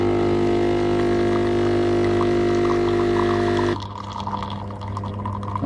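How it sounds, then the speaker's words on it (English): De'Longhi coffee machine dispensing a 30 ml shot: a loud steady pump hum with tonal whine and liquid trickle, cutting off abruptly near the end to a quieter dripping tail. "So as the coffee is dispensed, if this shot is 30 mils, it'll come up to that first line."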